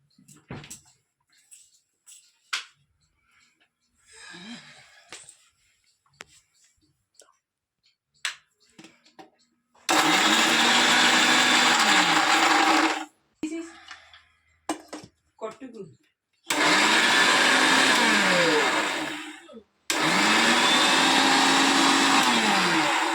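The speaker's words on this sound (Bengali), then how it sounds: "ওরিও বিস্কুটটা গ্রাইন্ড করে গুঁড়ো করতে হবে।" A kitchen blender grinding Oreo biscuits into powder runs in three loud, sustained whirring bursts, preceded by scattered clicks and clatter of handling the jar and lid.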